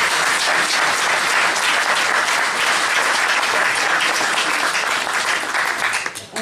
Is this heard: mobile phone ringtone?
no